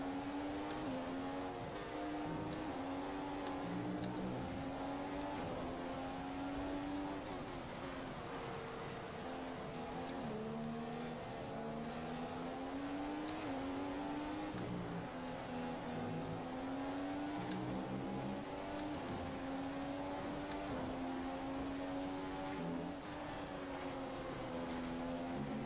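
Formula 1 race car engine in F1 2015 on a Mercedes, a steady high-pitched drone with rising and falling pitch sweeps as gears change, loud and continuous throughout with no talking.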